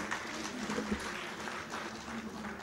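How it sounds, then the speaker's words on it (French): Applause from a forum audience honouring partners, a soft, fairly distant patter of clapping that holds steady throughout. "il mérite des applaudissements également"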